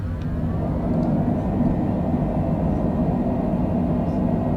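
Airliner thrust reversers roar during the landing roll on a snowy runway at Omaha, a loud, steady, broadband rush of engine noise heard from inside the aircraft.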